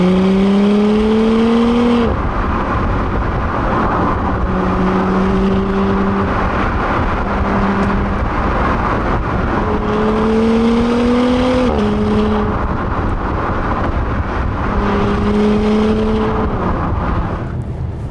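A 2017 Audi SQ5 TFSI SUV drops a gear, then its engine pulls hard through repeated rising acceleration runs, each ending in a brief upshift pause, loud and steady from inside the cabin with no talking.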